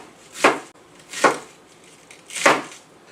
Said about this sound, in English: With cabbage, you cut it.